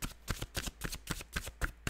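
A deck of tarot cards is shuffled in quick, even strokes, about eight crisp slapping riffles in two seconds, close up and alone.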